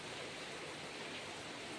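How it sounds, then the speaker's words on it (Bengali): Light rain falling on trees outside a window, a soft, even, continuous hiss without distinct drops, fairly faint and uninterrupted. "বৃষ্টি পড়ছে অল্প একটু আপনাদের সঙ্গে আমি শেয়ার করলাম"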